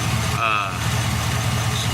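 A car engine with a straight exhaust running off the catalytic converter idles steadily, giving a constant, loud, close rumble with no break across the whole stretch.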